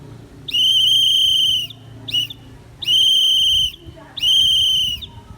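A shrill whistle blows Morse letter Y, long, short, long, long blasts: three sustained tones with one brief chirp between, over faint background noise.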